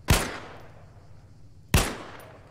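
Two sharp sniper rifle shots from a multiplayer PvP shooter game, spaced about a second and a half apart, each a loud crack with a short decaying tail over a low steady background hum.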